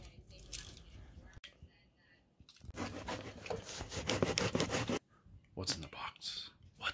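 Box opener slicing through a cardboard package, rough scraping strokes in close bursts separated by short pauses.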